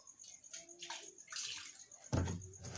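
Water poured into a sufuria cooking pot, quiet close splashing and trickling in short surges, ending with a fuller gush as the pot fills.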